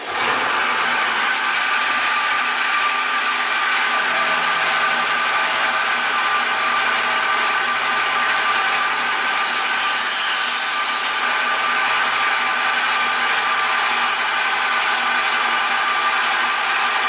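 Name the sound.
CNC mill facing a lift plate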